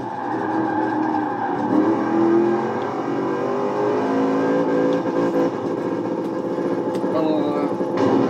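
Loud, sustained engine whine of a speed-focused car in Forza Horizon 4, revving steadily with rising and falling pitch while someone talks over it.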